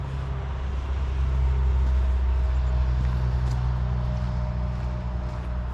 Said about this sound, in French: Désolé pour le bruit d'autoroute